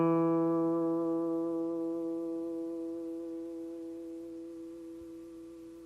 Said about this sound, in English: Let's listen to what I'm going to do. And I'm going to do this with a clean sound at first.